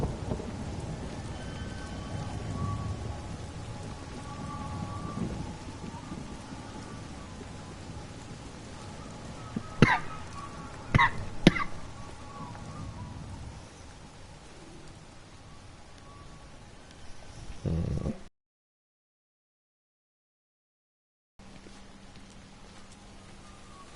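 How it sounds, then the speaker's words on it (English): Steady rain and rolling thunder in the video game Everybody's Gone to the Rapture, a continuous wash of rainfall with a couple of sharp thunder cracks partway through, then a sudden cut to silence. "And the rain again."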